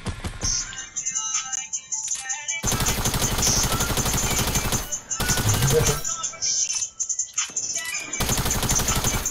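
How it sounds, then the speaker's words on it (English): Rapid automatic gunfire in the Fortnite video game, several sustained bursts separated by short pauses, loud and close. "Oh, you trying to shoot me now?"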